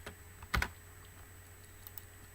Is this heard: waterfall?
no